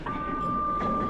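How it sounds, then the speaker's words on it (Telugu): A large Mongolian train connecting Russia, China and Mongolia rolls past, a steady close rumble of rail cars with a faint sustained tonal whine running throughout, no talking. "ఇది వచ్చేసి మంగోలియా ట్రైన్."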